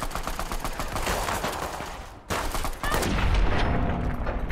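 Gunfire in Fallout: The Frontier, dense rapid volleys of shots and crackling fusillades, loud and close, with a brief pause midway before heavier, booming fire resumes.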